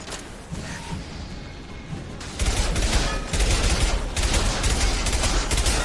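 A combat mech in Mass Effect 2 opens fire in a dense, rapid fusillade that swells louder midway and keeps hammering without pause, with a few whooshes in the mix and no voices.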